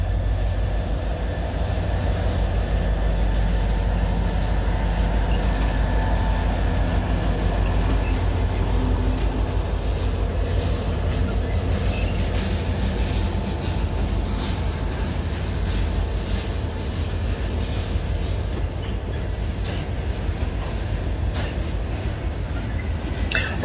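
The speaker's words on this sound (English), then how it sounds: "Soon, L59581 with GP40R Illinois Central 3103 in lead gets signals north along the Neenah sub." A freight train led by Illinois Central GP40R locomotive 3103 rolls past on the Neenah subdivision, a loud continuous low rumble and clatter of wheels with faint squeals, steady throughout without talking.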